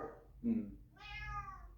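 A cat meows close by in a short series of calls, the last one a longer drawn-out meow, while a voice in the room murmurs faintly underneath.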